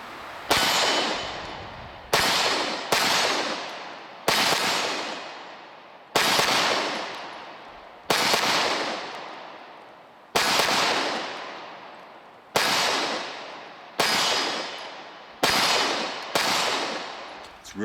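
A Walther Creed 9mm pistol fires about eleven loud, close shots at a steady, unhurried pace, each sharp report ringing out and decaying before the next.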